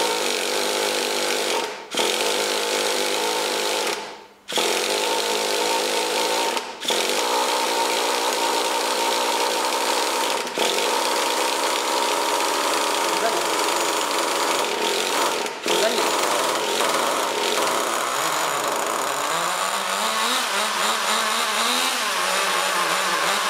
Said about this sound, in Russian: Сейчас холостой ход должен подняться. На холостых должно быть сейчас больше оборотов